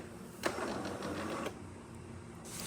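A Jura espresso machine brewing a shot during a full tune-up, giving a steady mechanical hum with a short knock near the start, heard close and alone.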